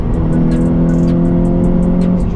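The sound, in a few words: Honda Civic Type R FN2 with HKS intake and Tegiwa exhaust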